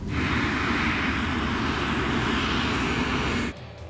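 The airliner of LAPA flight 3142 roars loudly and steadily as its engines spool for the takeoff roll, a broad close engine drone that cuts off abruptly near the end.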